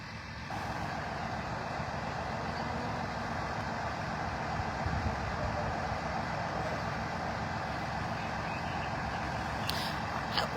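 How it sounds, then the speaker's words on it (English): Fire trucks lined up along a street at a salvage yard fire, heard as a steady, fairly close diesel engine rumble that runs throughout, with a brief higher mechanical sound near the end. "this whole street here, 6 from east all the way down to Grace is where all the fire trucks are"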